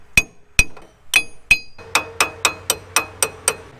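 Sharp metallic hammer blows drive a cracked wheel stud out of a car's wheel hub, about eleven strikes: four spaced ringing hits, then a quicker steady series, close and loud with a faint low hum underneath.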